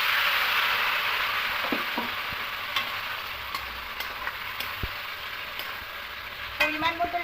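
A spoon scrapes and stirs shukto vegetables in a pan with mustard-poppy paste and water, over a steady sizzling hiss, with scattered clicks and a few louder knocks near the end.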